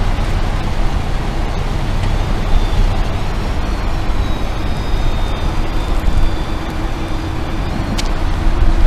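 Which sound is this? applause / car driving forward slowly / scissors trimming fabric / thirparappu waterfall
car driving forward slowly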